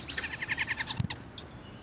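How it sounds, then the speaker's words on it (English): Brahminy starling calling at its nesting site, a run of quick bright chirps and tweets followed by a few separate calls, fairly close and clear against quiet background. "Brahmani starlings are monogamous birds."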